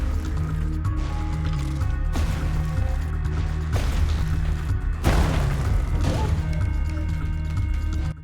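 Ship-mounted cannons fire in the video game Soulmask, a series of heavy booming blasts at irregular intervals over a steady mechanical game soundscape, with no talk.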